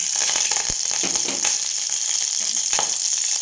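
Mustard seeds spluttering in hot oil with curry leaves and chilli added: a continuous, close sizzle and crackle with a few sharper pops, steady in loudness and without speech.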